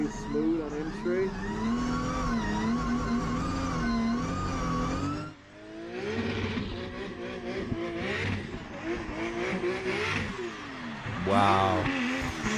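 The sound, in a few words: Nissan 180SX drift car engine revving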